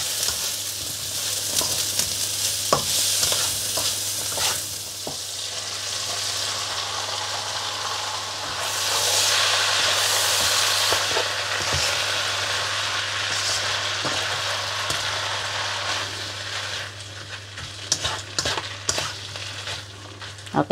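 Seasoned food fries in a pan with salt and stock added, a constant close sizzle broken by clacking spatula strokes and scrapes as it is stirred, with a louder surge of hissing midway.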